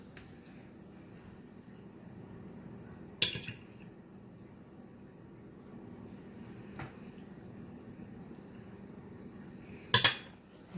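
Cutlery clinking on a plate while someone eats Jamaican oxtails with butter beans: two sharp clinks several seconds apart over a quiet room hum, with a faint tap in between.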